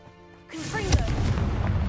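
Confringo blasting spell in Hogwarts Legacy, a single sudden burst that erupts after a quiet lead-in and trails into a loud, rumbling, crackling decay.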